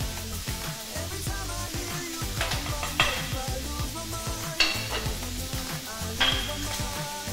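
Chopped onion and garlic frying in a pan, steady crackling sizzle with a utensil stirring and scraping against the pan in repeated clinks, close and continuous with no talk.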